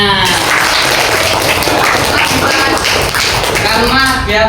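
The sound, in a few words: classroom applause, students clapping hands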